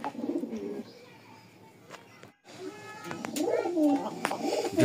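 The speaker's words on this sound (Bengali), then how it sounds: "এখানে দেখতে পাচ্ছেন দুইটা আকাশি কালার কবুতর" Two sky-blue male pigeons give soft, throaty coos close by, repeating in short rolling phrases, with faint voices and background murmur around them.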